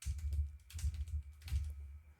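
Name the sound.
computer keyboard pressing Alt L shortcut in FL Studio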